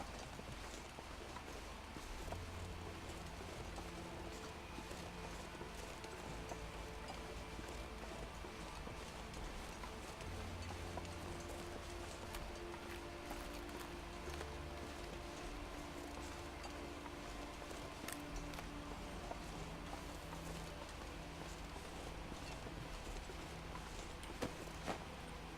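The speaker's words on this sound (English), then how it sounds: "I just thought I heard footsteps." Footsteps crunch and thud in a steady walking rhythm through The Long Dark's outdoor wilderness, low and constant beneath a dense bed of wind and ambient noise, with no voices.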